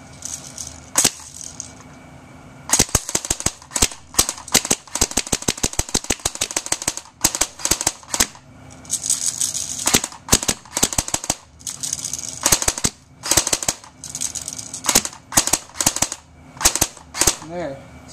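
Crosman Night Prowler air gun firing into styrofoam, with sharp snapping shots: bursts of rapid repeated cracks, then spaced single shots, loud and close, with brief quiet gaps between.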